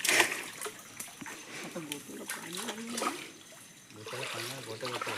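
Waist-deep water swishes and splashes at night as someone wades to catch crabs, with irregular trickles and sloshes close by while someone talks over them.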